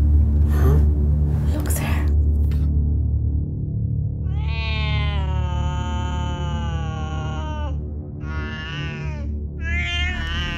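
A pet cat meows several times in drawn-out, wavering cries, fairly close, amid room noise and brief voices.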